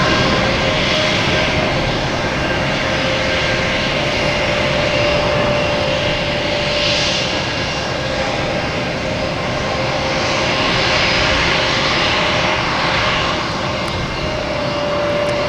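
A JetBlue jet airliner at Boston Logan Airport roars with steady, loud engine noise, a broad continuous rumble with a whining tone that holds for the full stretch, close by and unbroken by speech.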